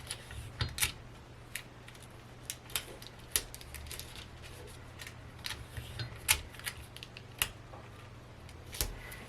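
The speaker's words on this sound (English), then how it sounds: "I'm going to cut my dart out." Scissors snipping out a dart from a paper sewing pattern, quiet, irregular crisp clicks and cuts close by over a faint steady background hum, with no talking.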